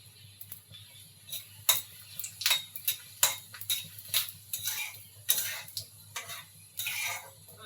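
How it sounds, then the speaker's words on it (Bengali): Whole spices dropped into hot oil for a cabbage and prawn curry, crackling and popping in irregular sharp bursts against a low steady hum, close and fairly quiet, with no talking. "আমি ফোড়নটা দিয়ে দিলাম।"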